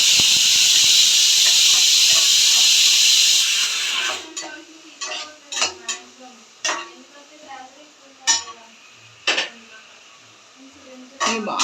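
Chopped onions and green chilies dropped into hot oil, a loud steady hiss for about four seconds, then quieter sizzling broken by repeated sharp stirring clatters of a utensil against the pan.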